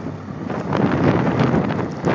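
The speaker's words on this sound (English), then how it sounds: "It is very, very windy out here." Strong blizzard wind during the February 1, 2011 Chicago storm roars steadily outdoors, with heavy gusts buffeting the microphone. It sounds loud and close, and no one speaks.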